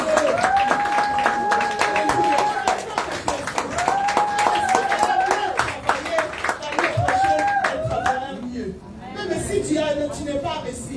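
A church congregation claps and cheers to acclaim the Lord, a dense, sustained burst of applause, loud and close, mixed with crowd voices and sung or shouted exclamations that fade as the clapping thins near the end.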